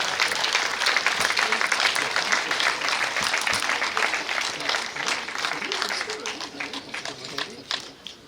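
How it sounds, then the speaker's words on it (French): Dense, steady applause from an audience at a mayoral ceremony in Montceau-les-Mines honoring a local resistance figure, filling the whole stretch at an even, fairly loud level with some voices mixed in before it begins thinning at the end. "Je crois qu'on peut l'applaudir."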